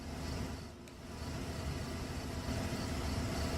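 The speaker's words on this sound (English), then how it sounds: "Engine's still running and the driver's seat door is open." Idling car engine in a Silent Hill game scene, its driver's door left open, giving a steady low rumble that holds evenly throughout with no voices.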